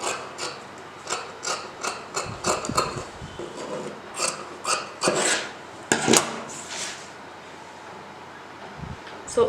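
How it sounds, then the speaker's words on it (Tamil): Scissors snip through silk pattu saree fabric being cut for a baby frock, a quick run of close, crisp rasping cuts in uneven bursts with short pauses, no voices. "லே பண்ணி இப்போ நம்ம கட் பண்ணி எடுத்துடலாம்."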